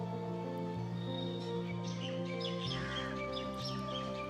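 Sparrows in an urban group chirping after bathing and preening, a steady chorus of short bright tweets and calls layered over a constant low background hum, moderately close.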